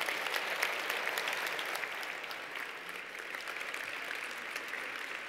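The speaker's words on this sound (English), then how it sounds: "A big round of applause for our panelists." An awards dinner audience applauds panelists, a sustained wash of dense clapping at steady volume, with no speech over it.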